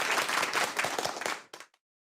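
Audience applause following a talk at a conference Q&A, a burst of many hands clapping at moderate volume for about one and a half seconds before fading quickly, then a brief trailing clap and silence.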